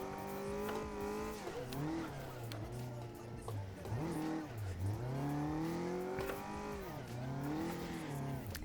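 Engine revs rise and fall steadily as a car drifts in a VR racing game. The engine surges repeatedly, with tire noise mixed in. Fairly faint but continuous.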